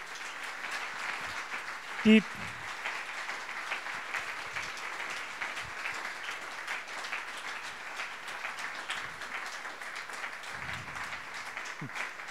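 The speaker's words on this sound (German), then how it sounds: "Das war der längste Applaus, gell?" A dense, sustained round of applause fills a hall at a hospice's 20th anniversary celebration at Schallaburg, steady and unbroken throughout, with a single brief spoken word cutting in early on.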